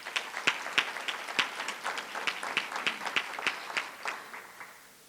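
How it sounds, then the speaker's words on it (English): Sparse clapping from a small audience at a community meeting about a new regional medical center, a handful of separate hand claps spread unevenly over a few seconds, fairly near and thin rather than a full ovation. "Give everyone a round of applause"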